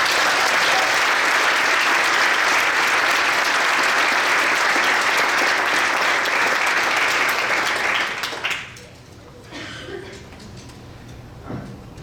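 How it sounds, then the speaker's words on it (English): Loud, dense applause from a banquet crowd honoring a high school varsity girls' soccer team, sustained for about eight seconds before cutting off to a quieter room with faint scattered noise. "Can we give the varsity team a round of applause?"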